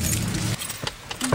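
Car keys jangle and clink in a short metallic burst, close and fairly loud, followed by a few scattered lighter rattles as they settle.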